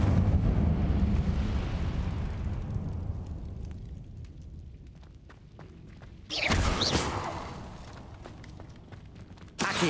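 The Incendio fire spell in Hogwarts Legacy on PS5 erupts with a roaring burst that fades into a crackling tail, then a second sharp fiery whoosh flares up loudly partway through.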